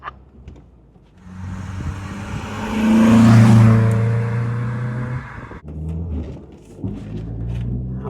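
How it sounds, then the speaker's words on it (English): A VW Golf GTI Mk2 exhaust note while driving along a tight, narrow country lane: a steady engine drone swells to a louder, rasping peak and then settles into a continuous rumble, with no talking. "It's got a wonderful exhaust note."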